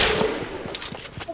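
Short bursts of rapid gunfire in a Fortnite match, several sharp cracks in quick succession at close range, loud and punchy over game noise.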